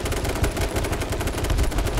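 Rapid automatic gunfire in the online shooter game H1Z1, dense bursts of shots in fast rhythm, loud and continuous, with no talk over them.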